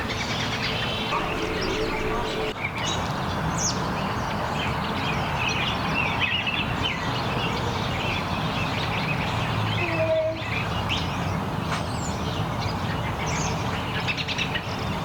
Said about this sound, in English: I'm gonna try to feed the birds